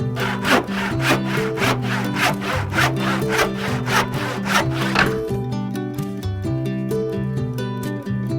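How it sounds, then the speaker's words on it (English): A wooden toe board under a bathroom vanity cabinet being abraded by hand, a steady rhythmic back-and-forth rasp of about ten even strokes that turns into faster, shorter scrapes near the end, close and loud with no voices. "you need to sand that board to match the contours of the floor."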